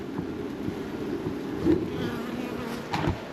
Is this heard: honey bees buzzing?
yes